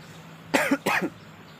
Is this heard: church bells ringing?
no